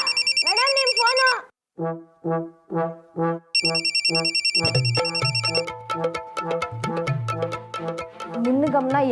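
A phone ringing with a repeated electronic ringtone, bursts of melodic tones with short pauses between them, then a fuller musical ringtone continuing loudly at close range.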